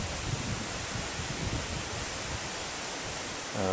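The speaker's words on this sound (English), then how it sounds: "Right now the gusts are only getting up to about 20 miles an hour." Loud, steady wind roars and rushes close to the microphone during Hurricane Florence, gusts about 20 miles an hour, a constant broadband whoosh with slight surges and no pauses.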